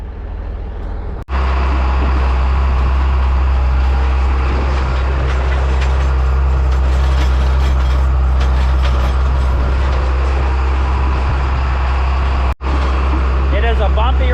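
A salvaged tractor with a self-steering system pulls a fertilizer spreader buggy across a bumpy field, its engine a loud, constant low drone heard from the cab with rattling over rough ground and a voice speaking over it.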